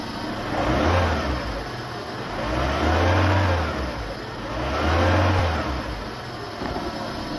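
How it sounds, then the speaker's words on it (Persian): A car engine revved by pressing the throttle while it runs during a charging-system check: three smooth rises and falls in engine pitch, loud and close, with steady idle between each rev. "یکی از آزمایش‌های مهم اینه که در حین روشن بودن موتور گاز بدیم و با تغییر دریچه گاز و گاز دادن این ولتاژ تغییری نکنه."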